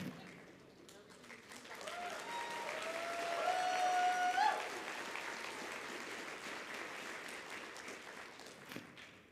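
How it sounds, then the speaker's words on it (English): A convention opening-ceremony crowd breaks into broad, sustained applause that swells toward the middle and holds steady, with scattered cheers and whoops riding over the dense clapping. "I want to give you a round of applause"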